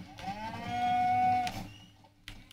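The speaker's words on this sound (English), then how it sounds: "The cow." A single long, loud cow moo, drawn out and steady, from a cow in a game scene, heard alone with no talk.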